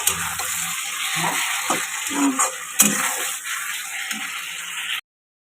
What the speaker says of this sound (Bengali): এখন সবজিটা হয়ে এখন শুধু জল দেবো কষানো হয়ে গেছে